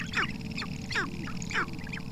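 Columbian sharp-tailed grouse give their courtship calls, a repeated series of short clucking, cooing notes in a loose rhythm about every half second, moderately close over a low outdoor rumble.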